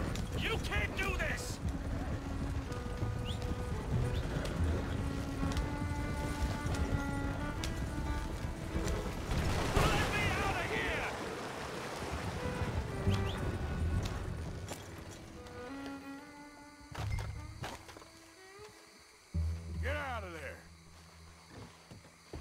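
Horse hooves clip-clop through the Red Dead Redemption 2 game world, a steady rhythmic tread under music and scattered talk, thinning toward the end.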